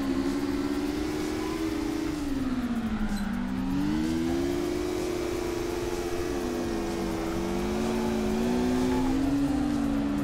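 A drift car engine in the racing game CarX Drift Racing on Xbox One drones and revs steadily, its pitch swooping up and down through throttle changes, loud and continuous with no talk.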